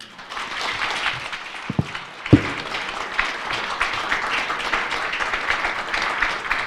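A crowd applauds at the launch of a political policy forum in Korea: dense, sustained clapping that fills the room, with a couple of sharp thumps early on.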